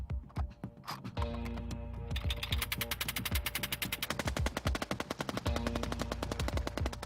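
Rapid bursts of machine gun fire, loud and close, with sharp repeated shots in a steady rattling rhythm and no voices.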